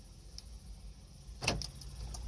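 Around a quiet idling Acura MDX or Honda Pilot running on remote start, a single short mechanical clunk marks the door locks actuating, preceded by a faint tick.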